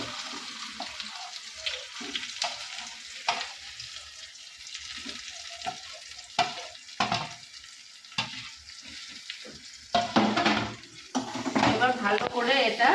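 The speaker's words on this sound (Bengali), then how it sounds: "তেলটা গরম হয়ে গেছে, এরপর পুরো আলু পুরটা আমি তেলের মধ্যে দিয়ে দেবো।" Potato filling for aloo paratha goes into hot oil in a pan and is stirred. Intermittent scraping and clattering lead into a louder crackling sizzle near the end, with some speech in between.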